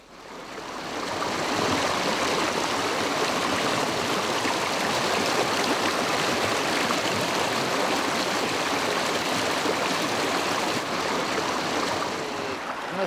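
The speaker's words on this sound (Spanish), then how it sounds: "Esta agua que baja por esta presa" River water rushing down a mill dam at Teixois, a steady loud broadband roar of flowing water that fades in at the start and continues without pause, with no voices.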